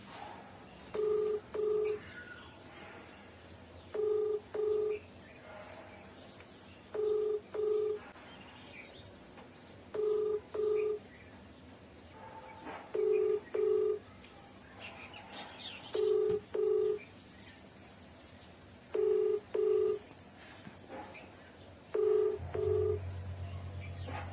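A phone call rings out on the line, a faint ringback tone of paired beeps that repeats about every three seconds, eight times over a quiet background.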